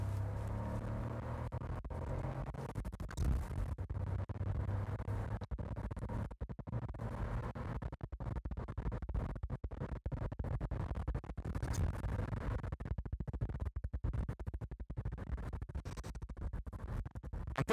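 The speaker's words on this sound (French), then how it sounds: "On va passer en mode sport pour voir si en accélération il y a quelque chose qui va changer." A Ford Puma 125 hp mild-hybrid compact SUV accelerating in sport mode, a low engine drone heard from inside the cabin, quiet and steady with faint scratchy rustles over it.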